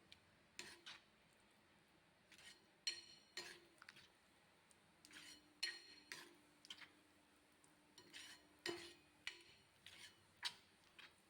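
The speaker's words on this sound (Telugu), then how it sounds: "ఈ బీరకాయ టమోటో అంతా బాగా కలిసేటట్టు బాగా కలుపుకోవాలి" A metal spoon scraping and clinking against a pot while ridge gourd and tomato dal is stirred, a series of soft taps and scrapes at an irregular rhythm, quiet and close.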